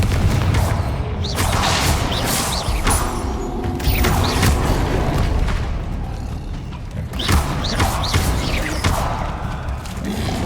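Confringo blasting spells going off in Hogwarts Legacy combat, a dense series of loud booming explosions and thuds layered over continuous battle noise.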